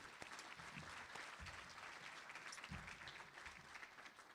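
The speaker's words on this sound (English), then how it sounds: "I think it would be also worth applauding for Bernie Rhodes as well." Audience at a press association event applauding, a faint, steady patter of many hands clapping at a distance, continuous throughout.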